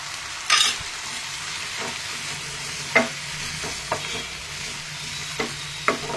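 Ginger paste sizzles and fries in a pan as it is stirred, with a steady close hiss and sharp scraping stir strokes scattered throughout, and no talking.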